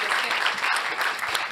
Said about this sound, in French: nous ne pouvons que vous applaudir